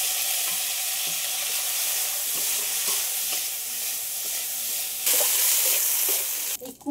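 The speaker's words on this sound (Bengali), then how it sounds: "এই মাছ ভাজা তেলের মধ্যে চিংড়ি মাছটাও ভেজে নেব।" Prawns frying in oil already used for frying fish, a loud steady close sizzle that hisses continuously and flares brighter near the end, no voices.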